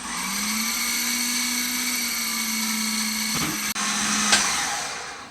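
A food processor with a coarse grating disc shredding potatoes for latkes, a loud steady motor whine holding several seconds, then a brief clunk and the motor running on.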